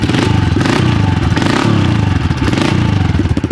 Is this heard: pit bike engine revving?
yes